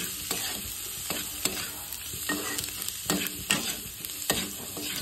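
Spices and vegetables being stir-fried together in a pan, with a steady close sizzle broken by repeated scraping stirs in an irregular rhythm, no voices.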